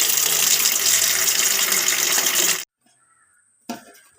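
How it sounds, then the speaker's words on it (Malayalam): Water runs strongly from a tap for a couple of seconds, then cuts off into near silence before a short splash at the end. "കുളിക്കാനുള്ള വെള്ളമൊക്കെ ഒന്ന് വെച്ച് കൊടുക്കാം അതിനായി വെള്ളം പിടിക്കുകയാണ്"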